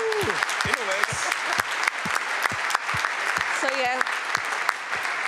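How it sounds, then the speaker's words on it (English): Conference audience applauding in a large hall, sustained dense clapping while a speaker talks over it. "Also, a round of applause."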